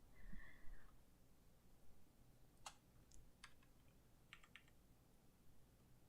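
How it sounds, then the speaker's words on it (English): Several sharp keystroke clicks from a loud mechanical keyboard, scattered and fairly faint over steady room noise with no talking. "I have the loudest mechanical keyboard ever."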